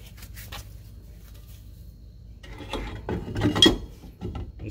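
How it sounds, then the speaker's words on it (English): An RV drum brake's star-wheel adjuster is turned by hand and the brake drum is slid onto the hub, giving a quiet clicking and ratcheting that turns into louder metallic scraping and clunks near the end. "So I turn the wheel a couple of turns and the drum goes on very easy now."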